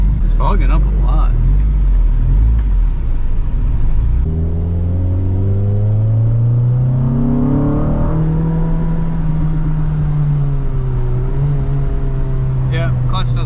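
An old car on a test drive with a stuck clutch, smoke and oil leaking, its engine rumbling and revving upward in rising pulls after a brief stretch where a voice is heard.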